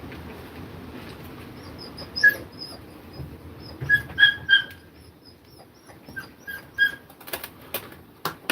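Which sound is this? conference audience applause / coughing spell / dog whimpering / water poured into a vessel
dog whimpering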